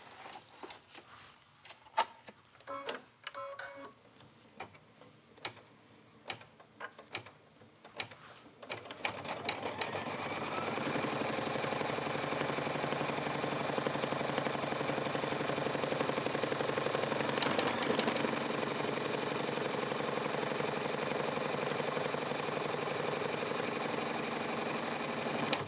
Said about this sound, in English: Back in the embroidery machine.